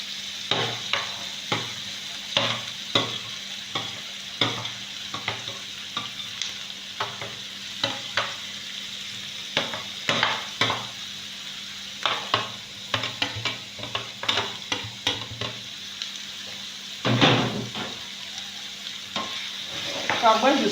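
Carrots frying in a pan are stirred with steady scraping strokes over a low, continuous sizzle, close and moderately loud, with no talking.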